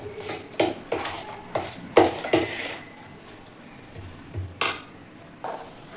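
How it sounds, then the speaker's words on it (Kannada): Curd rice stirred with salt in a bowl, with a spoon clinking and scraping against the dish in a quick run of strikes, then a pause and a few more clinks. "ಉಪ್ಪು ಹಾಕ್ಬಿಟ್ಟು ಮತ್ತೆ ನಾನು ಒಂದ್ಸರಿ ಮಿಕ್ಸ್ ಮಾಡ್ತಾ ಇದ್ದೀನಿ ಇದನ್ನು"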